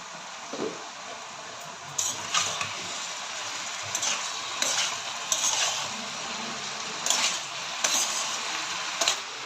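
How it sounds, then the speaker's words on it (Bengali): A pumpkin stem curry is stirred in a pan after the lid is lifted: a spatula scrapes and taps the pan in a loose rhythm over a soft background hiss, fairly close and moderately loud. "আমি ঢাকনাটা খুলে একটু নেড়ে দেবো।"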